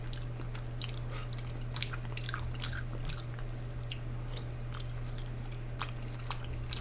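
Steady close-up mouth sounds of someone eating a soup of pig tripe, mozzarella cheese, carrot and shiitake mushrooms: repeated soft, moist chews and small clicks, unhurried and intimate over a faint constant hum.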